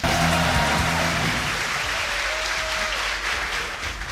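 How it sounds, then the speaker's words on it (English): A crowd at a Yu-Gi-Oh! world championship claps in a dense, sustained wash of applause, loud and continuous, with a faint voice briefly audible near the start. "The crowd is excited. You can hear them all."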